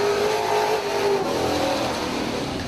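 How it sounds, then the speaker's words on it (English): A sportsman race car at Dixieland Speedway roars loudly under qualifying power, its engine tone steady and sustained with a slight pitch rise, no voices over it. "This is Doug Lincoln in car number 4. He drives the Ed's Muffler Shop Masterbuilt"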